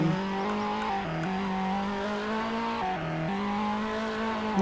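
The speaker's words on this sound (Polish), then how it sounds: "normalnie dodaję gazu i to driftuje" A video game car accelerates and drifts with a loud, sustained engine whine that climbs in pitch and dips briefly at gear shifts, over a continuous tire squeal; no talking.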